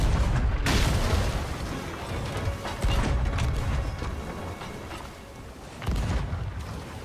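Heavy booming cannon blasts and mechanical clatter from Sea of Thieves, a few loud bursts spaced through a busy, noisy game soundscape with no talking.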